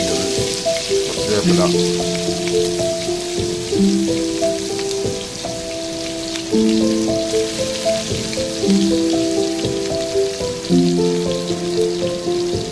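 Onions and curry leaves frying in about three spoons of hot coconut oil for a Kerala mackerel milk curry, a steady crackling sizzle beneath continuous melodic music and occasional voice.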